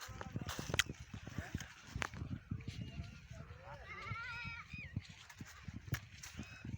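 Goats bleat on a farm where cattle and buffalo graze on pigeon pea plants, several wavering calls rising briefly over close rustling and faint background voices.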